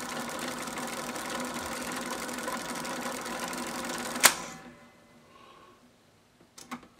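An old tape recorder winds tape with a noisy bearing, giving a steady whirring mechanical rattle up close that cuts off abruptly after a click, followed by near silence and a couple of faint clicks.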